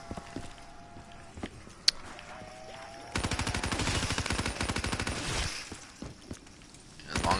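The Dingo gun fires in a zombies video game: a couple of isolated shots, then a sustained rapid burst of automatic fire lasting about two seconds. The burst is followed by quieter clicks and a final burst.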